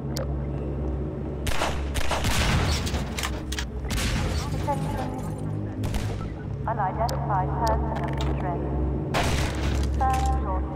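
Bursts of video game gunfire aimed at the player crack out in rapid volleys with booming hits, loud and close, broken by gaps and mixed with shouted talk and game sound effects.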